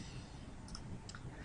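A couple of faint, crisp computer mouse clicks while selecting a slot in a Google Calendar view, quiet and brief over low room noise.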